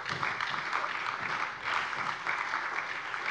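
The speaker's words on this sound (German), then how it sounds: "Applaus" Members of a state parliament applaud during a plenary session, a steady, moderately distant patter of many hands that continues evenly throughout with slight swells.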